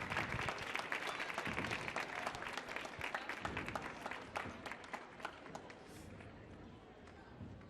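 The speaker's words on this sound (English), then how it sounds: "Thank you again for the applause." Audience applause after performers at an evening stage show, a dense steady patter of many hands clapping that slowly thins out, moderately distant.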